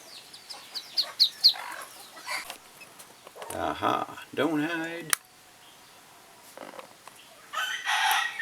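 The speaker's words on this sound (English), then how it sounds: "Just think the little hen is confused." Hens cluck and a rooster crows on a farm, with a brief high crow and scattered clucks among nearby voices talking.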